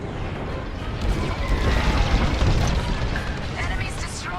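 A capital ship carrier blowing up in the Star Wars Squadrons space combat game, a broad roaring blast with rumbling debris that holds steady for several seconds, dense and loud and mixed with game effects.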